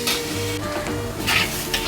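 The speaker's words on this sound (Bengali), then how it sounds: "এই ডালটা ভালো করে ভেজে নেব।" Sona moong dal dry-fries in a pan, with scraping stirring strokes over a crackling sizzle that swells in short bursts, close up and without speech.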